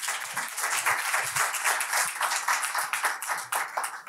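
An audience at a business conference on Brexit breaks into steady applause, a dense, even patter of many hands that holds throughout without talk.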